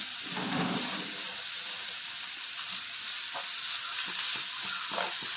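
Crushed ginger and garlic sauté in a hot pan for a Kerala-style egg roast, a steady broadband sizzle with scrapes from a spoon against the pan, close and continuous throughout.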